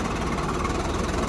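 Swaraj 735 tractor engine running under a heavy trailer load, a steady, dense low-pitched drone with constant loudness and no pauses.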